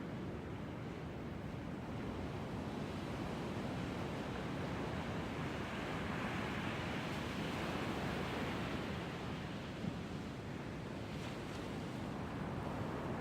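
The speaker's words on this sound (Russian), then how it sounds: "Океан шумит." Pacific Ocean surf at low tide on a morning coast, a continuous broad roar of small waves washing in, steady and moderately loud, mixed with wind buffeting the microphone and no voices.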